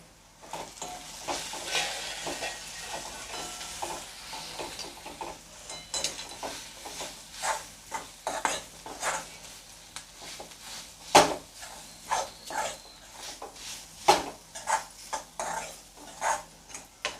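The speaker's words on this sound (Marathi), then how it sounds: "हे आता सर्व मसाले मी चांगले परतून घेते" Turmeric, garam masala and other spices sauté in a pan for a Malvani tender cashew curry, with a soft sizzle under repeated irregular scrapes and clinks of a spoon stirring against the pan.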